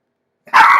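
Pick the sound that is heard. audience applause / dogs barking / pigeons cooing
dogs barking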